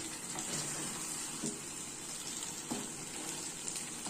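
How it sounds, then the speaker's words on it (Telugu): A glass of water poured into a cooking pot makes a faint, continuous splashing gush lasting a few seconds, with soft spatter bursts rising near the start and middle. "ఇప్పుడు వాటర్ పోస్తాను. ఇదిగోండి ఒక గ్లాస్ పోస్తున్నా."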